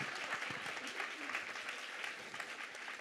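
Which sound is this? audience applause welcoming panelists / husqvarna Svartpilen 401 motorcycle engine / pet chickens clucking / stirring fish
audience applause welcoming panelists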